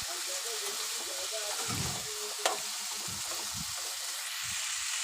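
Cut potatoes sizzle and fry in a pan for a home-cooked curry, a steady quiet hiss with occasional soft stirring thumps and a brief clink, no voices over it.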